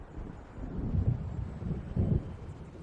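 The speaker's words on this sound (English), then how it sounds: "It seems there's a storm coming" Thunder from an approaching storm in Alan Wake rolls low and heavy, with two deep rumbling swells over a constant bed of wind and rain, moderately loud and with no voices.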